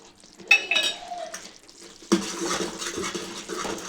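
Thick jaggery syrup and rice flour dough for ariselu being stirred in a pot, with a scraping utensil clinking against metal and a wet, sticky churning that grows louder and steadier partway through.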